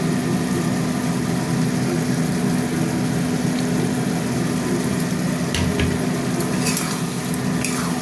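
Tomato paste frying and being stirred for a cauliflower vegetable curry: a dense, steady sizzle over a constant low hum, with a few clinks of the utensil near the end and no voices.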